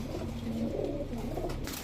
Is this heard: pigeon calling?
yes